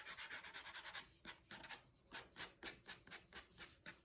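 Sanding block rubbed over a small sculpted fairy house piece, a soft, close, rasping scrape repeated in steady back-and-forth strokes at a quiet level.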